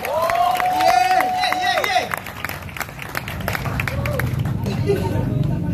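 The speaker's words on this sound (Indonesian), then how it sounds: "Oke teman-teman Karawang, tepuk tangan buat Ray Prasetya." A Karawang crowd applauds drummer Ray Prasetya with sustained clapping and hubbub, while a voice calls out over it early on before the applause carries on alone.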